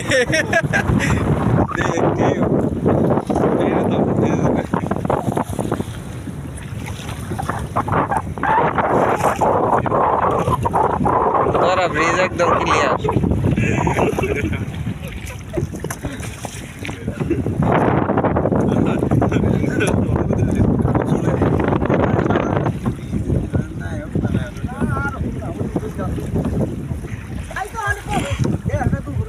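A boat travels on the Kaliganga river at Tora in Manikganj, with steady wind buffeting the microphone and a continuous rushing of water and motion. People talk over it at times.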